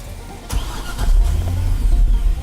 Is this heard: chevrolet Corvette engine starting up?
yes